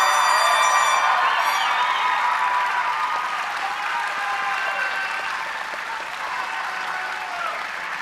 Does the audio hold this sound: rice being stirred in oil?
no